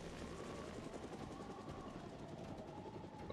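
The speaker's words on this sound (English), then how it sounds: "Oh, helicopter and everything here" A helicopter in Shenmue II drones with a steady low rotor chop, continuous and even in loudness, heard faintly throughout with no talking.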